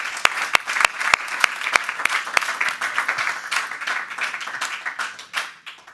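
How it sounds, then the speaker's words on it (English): An indoor audience at a youth reception for the Duke of Edinburgh's Award breaks into applause. A few sharp, distinct claps grow into dense, steady clapping that fades out near the end. "can we just give Zach one more round of applause"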